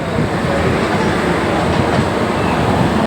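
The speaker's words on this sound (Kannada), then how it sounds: "ಸಿ ಎಸ್ ಟಿ ಸ್ಟೇಷನಿಗೆ ಎಲ್ಲ ಲೋಕಲ್ ಟ್ರೈನ್ ಹೊಂಟಾವು" Local train running near CST station in Mumbai, a loud steady rumble and rattle of wheels filling the whole stretch, close by.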